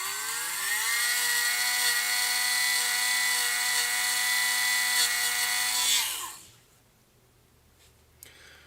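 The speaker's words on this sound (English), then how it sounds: "I'm going to take my sanding bit" A rotary sanding bit grinds a wooden toy flat, a loud sustained high whine at steady pitch for about six seconds, then spinning down and stopping, followed by faint quiet.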